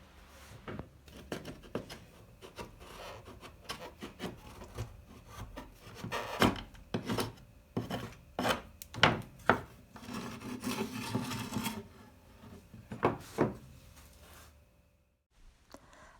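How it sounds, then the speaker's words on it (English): Painted reclaimed wood boards sanded by hand, uneven bursts of scratchy rubbing strokes close by at a modest level, some stronger passes toward the middle, then quiet. "I can go ahead and sand away, no problem."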